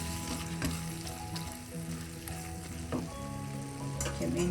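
Prawns sizzle steadily in a pan while being stirred, with scraping strokes breaking through a continuous close frying hiss, over a faint steady tonal background.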